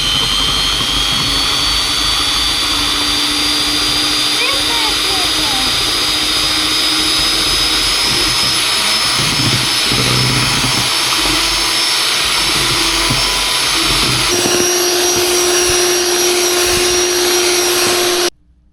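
An electric mixer beats eggs for flan con dulce de leche, a loud continuous high whine with a steady pitch that runs unbroken for about eighteen seconds and then stops abruptly.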